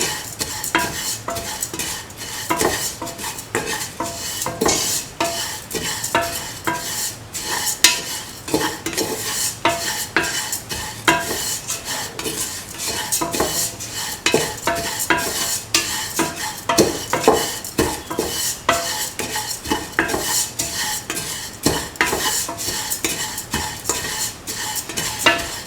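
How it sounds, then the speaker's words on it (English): Continuous scraping and stirring of vermicelli sautéing in a pan, a spoon knocking against the metal with a faint sizzle underneath, close and steady throughout without any voices. "Thoroughly saute and mix."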